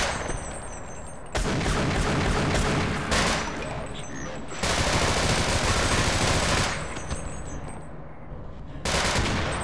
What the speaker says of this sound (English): I feel like I'm being shot at.